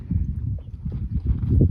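Horse hooves clip-clop in a steady rhythm on firm ground as the horse is driven forward in a cowhorse drill, close and fairly loud, with no talking.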